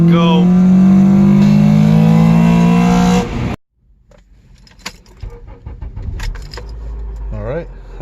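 An Acura TSX engine revs hard, its pitch rising sharply into VTEC before cutting off abruptly, followed by quiet rustling, clicks and brief voices.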